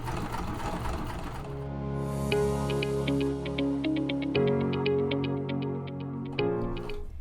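Sewing machine stitching a tote bag, running steadily with a dense mechanical whir and ticking, then slowing near the end as it is hand cranked stitch by stitch, producing separate clicks.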